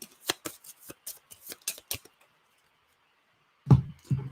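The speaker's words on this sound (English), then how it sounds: "I just had to shuffle these before we begin" Playing cards riffled and shuffled before a tabletop game, a quick run of crisp flutters and snaps, then silence and a couple of soft low thumps as the deck is squared.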